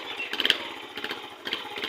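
A motorcycle engine runs steadily at a rough, buzzing idle outdoors by a canal, close and moderately loud, with brief revving pulses and no talking.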